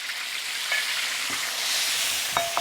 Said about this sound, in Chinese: 再炒起，油烧热倒姜蒜儿